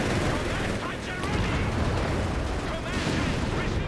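Tank gun fire and battle noise in Company of Heroes 3, a loud, dense wash of booming shots and gunfire running throughout, with faint voices mixed underneath.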